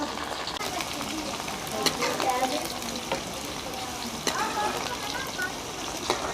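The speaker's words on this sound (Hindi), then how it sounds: "आ देखो अपनी भिंडियां फ्राई हो गईयां।" Okra (bhindi) frying in a pan gives a steady, close sizzle with a few sharper crackles and stirring clicks scattered through it.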